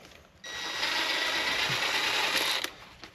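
A power impact wrench fires on lug bolts in one sustained burst of about two seconds, a dense rattling mechanical whir that starts abruptly and cuts off.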